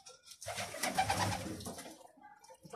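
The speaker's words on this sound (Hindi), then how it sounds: "बहुत सारे कबूतर हैं" Pigeons in a rooftop loft give a soft, rolling coo, one quiet phrase in an otherwise still space.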